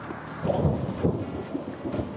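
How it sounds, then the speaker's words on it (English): Thunder rumbles low and heavy from a thunderstorm over a mountain in Rocky Mountain National Park, rolling in uneven waves over a steady wash of rain. "Whoa, this is a big storm."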